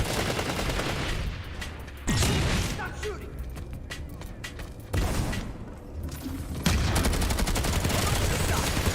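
Rapid bursts of automatic gunfire and scattered shots in the online shooter PlanetSide 2, loud and near, with heavier volleys joining in after a few seconds and voices talking over the fighting.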